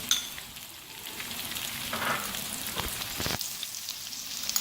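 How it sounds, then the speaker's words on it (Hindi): Onions and garlic fry in a pan with a soft, steady sizzle, close and fairly quiet, with a few stirring scrapes and clinks along the way. "प्याज को हम फ्राई करेंगे, साथ ही हम लहसुन के जवे शामिल करेंगे।"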